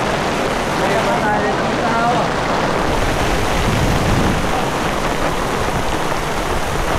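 Steady rain falls continuously, a dense hiss of drops on surfaces, moderately loud and unbroken throughout.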